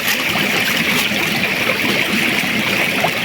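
Water gurgling right at the microphone, a loud continuous rushing, bubbling wash with no pauses, close and unbroken, no voices.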